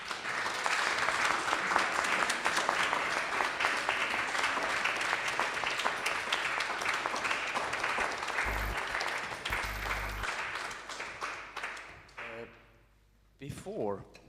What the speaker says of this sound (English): let's give a big applause to Margus and to Tarmo